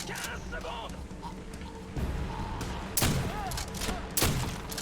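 Grenades exploding in Call of Duty: World at War, several heavy booms that burst out one after another over a busy battle din, with a voice talking through them.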